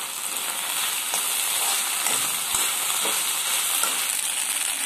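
Okra fry with chili powder being stirred in a pan, giving a steady, close sizzle with faint scraping from the stirring throughout, and no talking.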